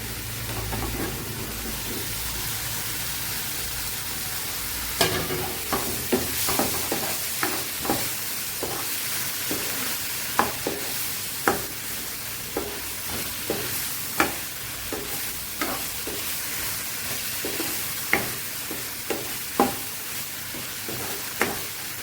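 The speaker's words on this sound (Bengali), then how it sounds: "এর সাথে ডিম আর আলুটা একই সাথে এখন দিয়ে দিব।" Egg and potato curry (dimer kosha) frying in a pan, a steady close sizzle with repeated sharp scraping clicks from stirring through most of the stretch, no talking.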